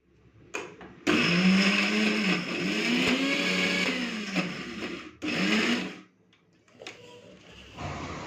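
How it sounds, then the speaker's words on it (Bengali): Mixer grinder grinding red lentils with a green chili and garlic cloves and no water, loud whirring bursts that start and stop several times, with brief pauses between pulses and a short rattle near the end. "বন্ধুরা মসুর ডালটাও আমি ভালো করে বেটে নিয়েছি জল ছাড়াই বেটেছি"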